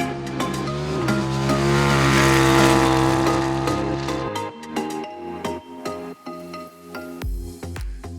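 A KTM 990 RC R track-focused supersport motorcycle is ridden hard. Its engine roars loud and steady, rising in pitch, then breaks into choppier revs and sharp bursts as the ride goes on.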